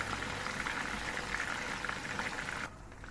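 Fish frying in a pan sizzles with a steady, faint crackle close by, then drops abruptly to a quieter hiss near the end.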